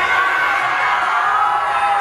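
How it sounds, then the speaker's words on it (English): A large outdoor crowd at a live music performance at Maracas shouts and cheers together in one loud, sustained roar of mixed voices lasting about two seconds. "At the count of three, I want you to scream out your country name."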